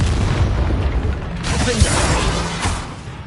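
A rumbling magical blast from the Confringo spell in Hogwarts Legacy, a loud crackling burst with a dense low roar that swells and slowly fades.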